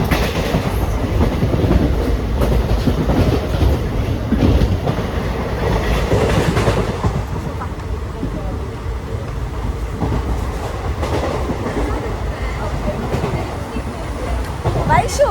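Train passing along a railway line near Ranipuram, a loud rumbling roar with rhythmic wheel clatter that stays strong before gradually thinning out, with people chatting over it.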